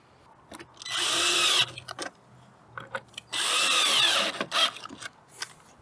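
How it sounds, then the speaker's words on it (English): A power drill drives screws into a Toyota Highlander rear turn-signal assembly in two loud, close bursts of whirring, each about a second long, with short clicks and handling noises between them. "We're just gonna throw those two screws in"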